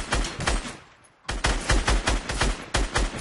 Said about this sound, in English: I'm getting sniped from up top.